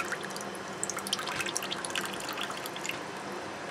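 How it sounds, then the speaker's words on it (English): Water drips steadily from an airline tube into an aquarium while a newly added fish is acclimated, a quick irregular patter of small drops close by with no voices. "And let that drip in."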